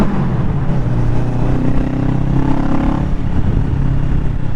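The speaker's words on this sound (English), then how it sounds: "this bike sounds beautiful when you get up the revs" A 2023 Kawasaki Ninja 650 heard under way, its engine note loud and close as it revs up and climbs in pitch before holding at high revs, with a constant rush underneath.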